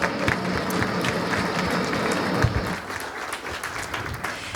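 An audience at a school sovereignty celebration applauds the Icelandic nation, a dense, sustained wash of clapping from a large group that eases slightly toward the end.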